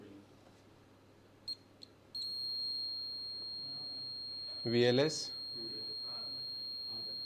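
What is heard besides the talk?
multimeter continuity buzzer beeping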